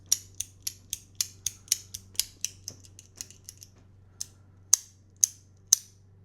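Geeone fidget toy clicking up and down, with sharp, close clicks in a quick regular series, a few softer ones, then three well-spaced louder clicks.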